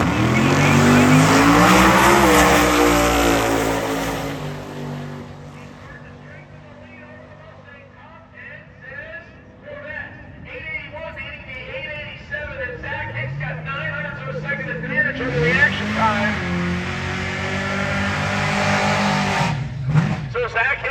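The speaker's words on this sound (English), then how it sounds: "Gatley in the modular-powered Fox Mustang right side out of Cape Coral, Florida, the wheel stander" A modular-powered Fox Mustang wheel stander and a 2008 Corvette drag race in street car eliminations, engines roaring loud at launch, fading, then a second surge of revving and screaming exhaust, with an announcer talking.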